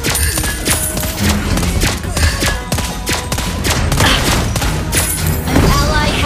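Rapid sniper gunshots from the hero Lesley in the Mobile Legends video game, fired in loud, dense bursts over continuous game music and effects.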